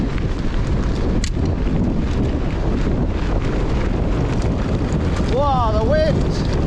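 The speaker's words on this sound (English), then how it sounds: "Wow, the wind!" Strong wind buffets the microphone while mountain biking down a descent in the Yorkshire Dales, a loud continuous roar through the whole stretch, with a voice exclaiming briefly near the end.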